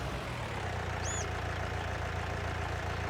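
A tractor engine idling in Farming Simulator 19, a steady low rumble holding constant throughout with no talk, plus a brief high chirp partway through.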